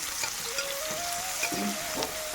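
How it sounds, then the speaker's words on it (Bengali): Spices with onion, chilli and ginger sizzle and crackle steadily in hot oil, close up, with a faint tonal hum running underneath. "ভাজা করে নেব"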